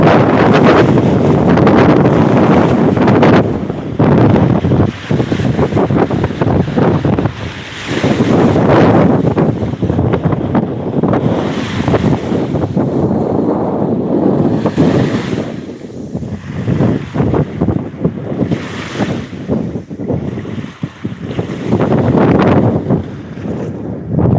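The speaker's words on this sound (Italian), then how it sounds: "Sento un po' di vento, vero?" Strong wind buffets the microphone in loud, gusting bursts at Pevero Beach, Sardinia, with surf rolling in the background and no voices.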